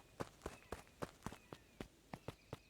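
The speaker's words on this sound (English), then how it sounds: "Luca heard a group of footsteps approaching" Several footsteps approach in the Beacon Pines video game, about ten even, crisp steps at a steady walking pace, fairly quiet and alone with no talk.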